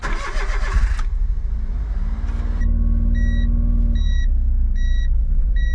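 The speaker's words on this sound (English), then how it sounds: "So let's move the Honda Z." A Honda Z's engine cranks loudly and catches, then settles into a steady close idle with a low rumble while a faint beeping chime repeats alongside it.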